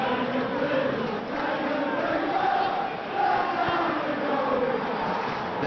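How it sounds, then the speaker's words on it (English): Stadium crowd noise from a PES 2021 football match between Luton Town and Stoke City: a loud, steady roar and cheering that swells briefly without letting up. "it's good to see that the crowd appreciate his efforts"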